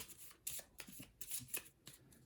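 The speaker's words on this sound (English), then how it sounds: "And I'll randomize it out like that, and then shuffle these up" Cards for the Legendary Buffy the Vampire Slayer deck-building board game are shuffled by hand in a series of close, crisp riffling bursts, each a quick papery flutter with short pauses in between.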